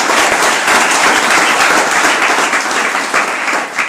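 Loud, steady applause from a large crowd for Maharana Pratap at a motivational talk, a dense wall of clapping that keeps going for several seconds.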